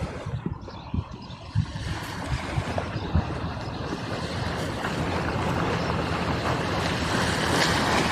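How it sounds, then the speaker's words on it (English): Wind and waves at the seaside make a continuous rough roar with irregular splashes and gusts buffeting the microphone, rising slightly and with no talk. "Do you think that the waves or the wind is kind of annoying?"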